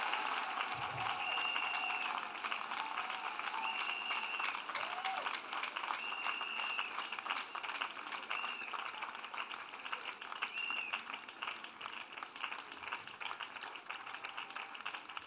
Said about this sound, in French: When you want to clap for the deliverance of souls,